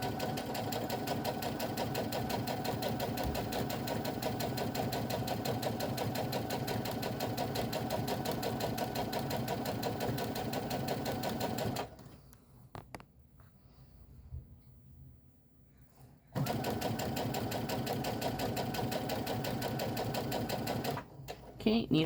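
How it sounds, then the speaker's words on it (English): A sewing machine stitches an iPhone pocket with a steady, loud mechanical whir. It stops briefly partway through, then resumes at the same even pace. "I put my foot down, needle down position, and then I can start sewing."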